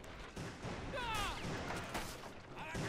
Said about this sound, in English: the leader of the gang back here has heard the shooting, so he's gonna join in